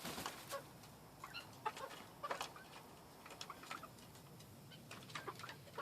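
Hens cluck and murmur in their coop, a few soft, scattered calls and rustles, fairly close but quiet.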